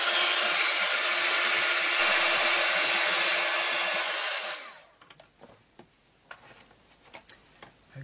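Hair dryer blowing on a painted canvas, a loud steady whoosh that cuts off after about four and a half seconds and is followed by quiet taps and handling sounds.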